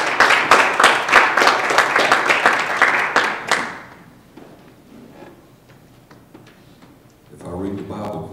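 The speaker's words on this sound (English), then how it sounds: "How about we just give him a hand clap of praise?" A church congregation claps hands in praise, a burst of quick, slightly uneven claps close by that stops abruptly after a few seconds, leaving low room murmur before a voice starts speaking.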